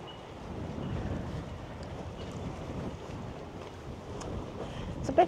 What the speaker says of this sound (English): It's a bit breezy. It is. The wind's coming right down the lake.